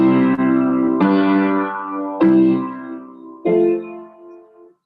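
Four chords of a progression in four-voice harmony sound on a keyboard, each struck cleanly and left to ring and decay before the next. The tone is full and sustained, with a slight electronic sheen, and no one speaks.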